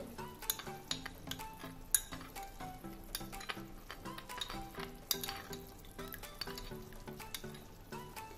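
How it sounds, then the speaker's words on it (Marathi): A spoon stirring a cornflour and water mixture gives faint, quick, repeated light clinks and scrapes against the container, close and quiet, with no talking. "त्यामध्ये आपण 2 मोठे चमचे पाणी घालूया आणि हे मिक्स करून घेऊया"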